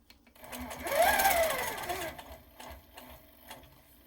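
A powerquilter 1650 quilting machine stitches along a ruler. Its rapid, steady needle whir rises and falls in speed, with light clicks and handling noise around it.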